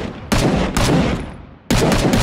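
A carbine magazine emptied in rapid fire in Rising Storm Vietnam: loud, close bursts of quick shots in two dense volleys separated by a brief gap, then a third burst starting abruptly.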